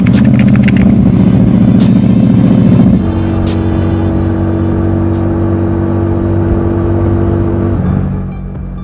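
Loud, sustained roar of a Benda motorcycle engine, revving hard for about three seconds, then settling into a steady high drone before easing off at the end, with no voices.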